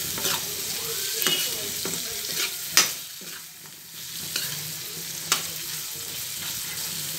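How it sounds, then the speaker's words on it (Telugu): Drumstick pieces fry in a pan for a milk-based curry, giving a steady soft sizzle with intermittent scraping stirs and a few sharper utensil clicks, close and moderately quiet without talk. "ములక్కాయలు కూడా వేసి కొంచెం ఫ్రై చేద్దాము, జస్ట్ దీనికి ముక్కలకి ఇదంతా పట్టే వరకు"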